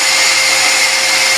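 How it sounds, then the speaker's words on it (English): A power drill spins a steel bolt clamped in a vise as a makeshift lathe, giving a loud, steady high-pitched motor whine that holds constant throughout with no speech. "Now I use a drill with a vise to make it like lathe."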